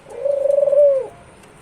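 A dove gives a single soft, throaty coo, close and clear against near silence.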